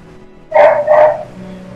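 A small female dog gives two quick, sharp barks close by, loud and clipped, with faint background hum before and after.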